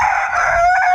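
A rooster crows once, loud and close, a single sustained cock-a-doodle-doo with no other sounds.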